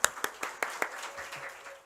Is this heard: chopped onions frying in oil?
no